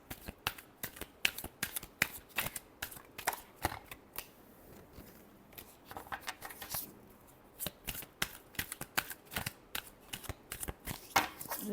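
Tarot cards are shuffled in a steady run of crisp, rapid riffles and slaps, close and fairly quiet, with a brief softer lull midway before the flicking picks up again.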